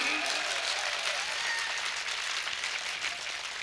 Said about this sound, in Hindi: पुरजोर तालियां उठें एक बार आपकी।